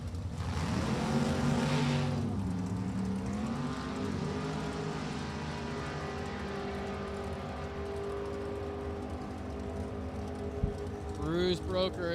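Drag racing Camaro from Brunswick, Ohio roars out of the burnout box down the strip at an NHRA Lucas Oil event at Maple Grove Raceway, a loud sustained engine note with rising pitch under a commentator's continuous talk.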